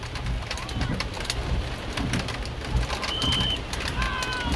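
Pouring rain falls steadily on an outdoor practice field, a dense, constant hiss of drops with occasional brief bird chirps above it.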